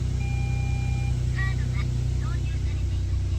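Cold-started 1996 Suzuki Jimny K6A (JA22W) engine idling, a steady low rumbling hum with a couple of faint beeps layered over it near the middle.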